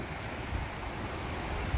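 Flooded brook water rushing toward a road culvert, a steady broadband roar close by with constant level and no talking.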